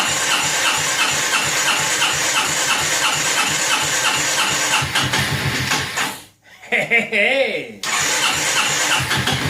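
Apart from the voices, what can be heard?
2002 Honda Reflex scooter engine starting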